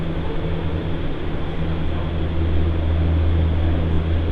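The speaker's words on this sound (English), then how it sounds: "Our tram is coming, you will see it right there" A steady low mechanical rumble and hum from an approaching vehicle, growing slightly louder and fuller toward the end.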